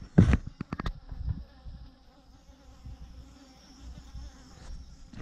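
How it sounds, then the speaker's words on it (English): Bees buzzing around a light at a lodge in South Luangwa, heard as a sustained, steady insect drone after a few brief knocks at the start, close and moderately loud. "There's bees in my light."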